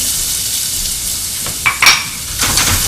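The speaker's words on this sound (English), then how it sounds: "we're going to sweat some onion" Onions sweating in a pot give a steady, close sizzle, with a few brief clinks and stirring scrapes of a utensil against the pot partway through.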